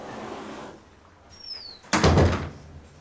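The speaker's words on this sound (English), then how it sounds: "Can you close the door?" A door swings shut indoors with a brief squeak and then a solid thunk, heard close and alone after a quiet stretch.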